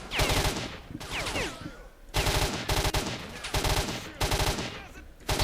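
Rapid bursts of automatic gunfire in the video game S.T.A.L.K.E.R., several clustered volleys of sharp shots with brief gaps between them, loud and close.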